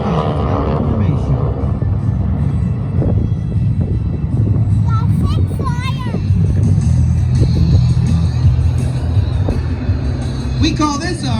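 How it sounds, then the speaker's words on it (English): Six World War II propeller aircraft flying in formation at an airshow in Pensacola, a steady loud engine drone and rumble throughout with crowd and ambient noise mixed in. "Now you can appreciate the meaning of 6 classic World War II aircraft formation."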